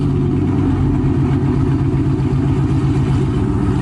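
A Dodge R/T V8 fitted with BBK long-tube headers idles and blips close up, a loud, choppy low-pitched exhaust burble with a pulsing lope throughout and a short rise in revs at the very end.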